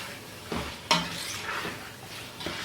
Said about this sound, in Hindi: इसको कम से कम 1 से 2 मिनट आपने भूनना है